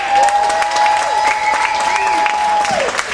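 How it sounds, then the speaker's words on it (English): A club crowd applauds and cheers for a musician, with steady clapping alongside a sustained feedback-like tone and talking voices over it. "please give a big round of applause to Mr."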